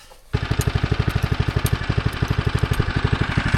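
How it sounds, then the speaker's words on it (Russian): The small engine of a motorized rail draisine, long unused and revived on an abandoned narrow-gauge railway, catches abruptly and settles into a loud, close, rapid chugging idle with even pulses. "А дрезина наконец-то завелась."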